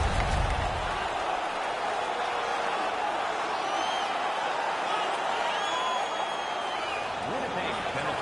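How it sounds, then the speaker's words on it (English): Virtual home arena crowd in the NHL 19 hockey game roars steadily after an on-ice fight, a loud dense wash of cheering that holds throughout under the commentator's voice. "The home crowd is ecstatic."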